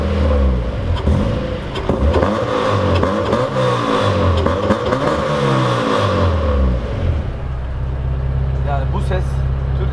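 A modified 1997 Honda car engine revs repeatedly in close, loud bursts that rise and fall, then settles into a steady idle hum, with someone talking over it.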